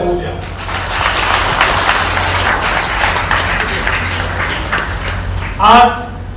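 Crowd applause at a live Marathi religious gratitude ceremony and scripture-reading event, steady clapping from a large audience filling the whole stretch, with a brief louder burst near the end.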